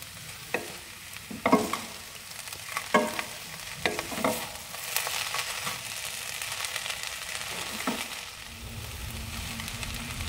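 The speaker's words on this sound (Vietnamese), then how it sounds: "Mình sẽ cho lá rau cần với hành lá vô. Mình đảo lên khoảng vài chục giây nữa là được nha." Vegetarian noodles with celery leaves and scallions being stir-fried in a pan, a continuous sizzle broken by repeated scraping tosses of the spatula, close and moderately loud.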